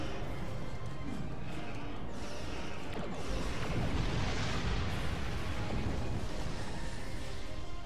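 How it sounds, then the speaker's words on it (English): A starship explodes in Star Trek Online space combat, a sustained roaring blast with crashing rumble that swells midway, loud and continuous, with no voices. "Oh, the explosion gave us some damage."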